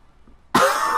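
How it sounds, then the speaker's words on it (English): A single sudden cough bursts out after half a second of near silence, loud and close, with a short rough tail and no talk around it. "Makes me cough."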